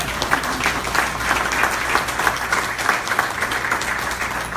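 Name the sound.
congregation applause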